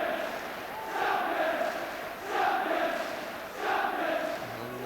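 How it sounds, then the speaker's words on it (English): A football crowd at Anfield chants "champions" during a Liverpool v Chelsea match. The chant swells in three rhythmic waves, roughly a second and a half apart, as a distant massed roar of voices. "And the crowd, meantime, cry champions"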